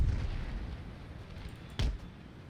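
A single distant cannon boom in Empire: Total War, a short dull thud over a low rumbling battlefield background.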